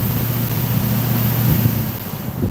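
A Traxxas X-Maxx RC truck's electric motor gives a steady low hum and whine, close and fairly loud, with a slight rise near the end and no voices.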